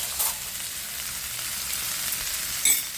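Steak frying in a pan at home, a steady broad sizzle running through the whole stretch with a small spatter near the start and a brief louder crackle near the end, no voices.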